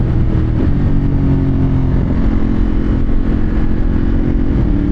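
Loud, close rumble of a Ducati Monster 1200S twin-cylinder motorcycle engine, steady and throaty throughout with a slight rev change near the start, no voices.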